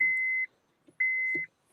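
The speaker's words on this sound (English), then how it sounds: "I can wait for that beeping to stop" Two clean electronic beeps, each about half a second long, sound about half a second apart, loud and close, with brief faint background noises between them.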